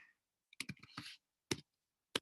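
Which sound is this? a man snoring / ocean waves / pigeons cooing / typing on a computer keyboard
typing on a computer keyboard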